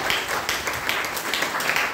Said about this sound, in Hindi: तो एक बार मेरे लिए जोरदार ताली बजाइए